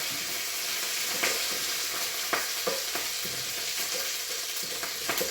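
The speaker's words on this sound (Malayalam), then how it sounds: "കറിവേപ്പിലയ്ക്കകത്ത് ശകലം വെള്ളം ഉണ്ടായിരുന്നേ, ഞാൻ കഴുകി വെച്ചിട്ടുണ്ട്. പക്ഷേ അതാണ് ഈ സൗണ്ട്." Wet curry leaves sizzle hard in hot oil while cooking a chena curry, a loud continuous crackle and spatter with sharp pops scattered throughout, close up and without talk.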